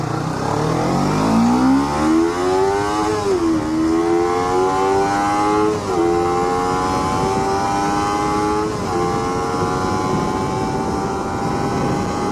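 A Kawasaki Ninja 300 motorcycle at wide open throttle, its engine note climbing loud and high through three rising sweeps with brief dips at each gear change, close and continuous for about twelve seconds, no voices.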